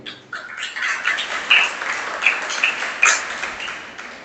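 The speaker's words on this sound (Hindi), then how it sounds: "ऐसी ताली बजाई जाती है।" During a Jain sermon, a few separate claps ring out in an uneven rhythm, a demonstration of how clapping is done, set against a faint room background.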